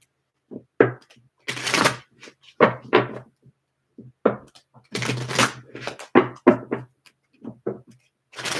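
A Kipper deck of fortune-telling cards is riffled and shuffled in repeated bursts, close and fairly loud, with brief pauses between the rustling, snapping runs.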